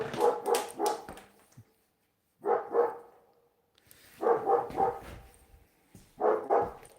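A dog barks in short bursts of two or three sharp barks, separated by pauses, moderately close and fairly quiet overall.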